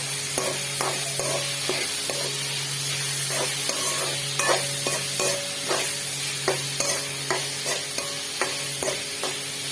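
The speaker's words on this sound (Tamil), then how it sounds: "ஸோ அது வரைக்கும் இது நல்லா ஃப்ரை பண்ணிகிட்டே தான் இருக்கணும்." Tomatoes and onions frying in oil, a low steady sizzle punctuated by regular scraping and tapping strokes of a spoon stirring the pan, close and moderately loud.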